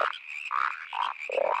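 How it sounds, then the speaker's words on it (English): Frog ribbit mating calls from the lesser-spotted pond jumper in a cartoon: four or five clear croaking calls in quick succession, close and fairly loud, with a steady high tone running underneath and no talking. "which get their name from their ribbit-ribbit mating call"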